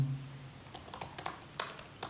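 Short bursts of keystrokes on a computer keyboard as a command is entered, several quick clicks clustered in a few groups, close and fairly quiet, no voices.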